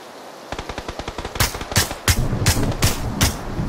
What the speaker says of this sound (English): Shot the guy in the tower a couple times?